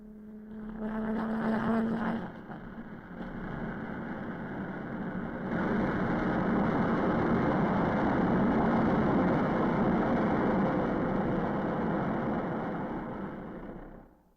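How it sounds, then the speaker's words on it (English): A General Electric J79 jet engine on a Lockheed F-104 runs up before a flight test, a steady loud roar with a broadband rushing whine that swells partway through and holds at full power before cutting off. "Engine run-up was a necessary prelude to flight test"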